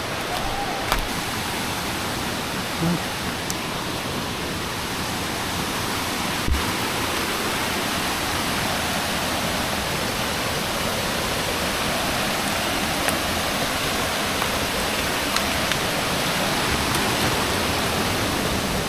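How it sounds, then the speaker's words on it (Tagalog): A roaring forest waterfall pours in a thick, unbroken wash of white noise, steady and close for the whole stretch with no talk. "Ito na ang falls. Wow. Grabe, ragasa."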